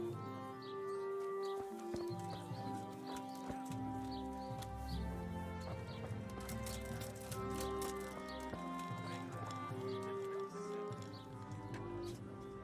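Horse riding in the medieval video game Kingdom Come: Deliverance, with steady clip-clop hoofbeats and an occasional whinny over a continuous bed of music and ambient birdsong.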